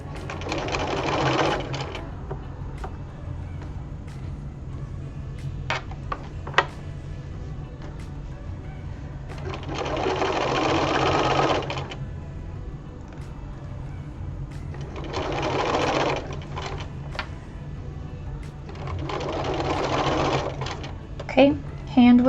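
A sewing machine stitches a ruffled apron in four separate bursts of rapid, close whirring, with quiet pauses between runs while the fabric is arranged.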